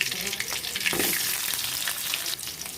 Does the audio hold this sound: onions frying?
yes